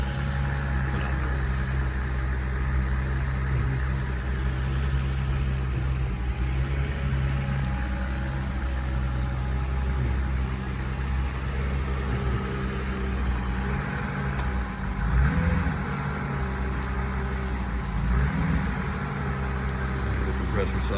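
A Mercedes SL R129 with a Renntech 7.4-litre V12 idles indoors, a steady hum with a low mechanical drone and faint shifts in load as the air conditioning compressor cycles in and out.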